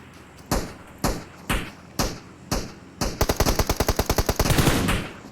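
Gunfire in PUBG Mobile: five evenly spaced single shots ring out, followed by a rapid automatic burst, all loud and close with no speech.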